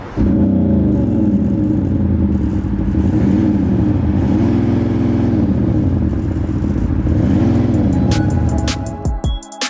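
An ABT wide-body tri-turbo Audi SQ7 with 520 bhp roars loudly and up close, its engine droning and rising in pitch through sustained revs before cutting off abruptly at the end.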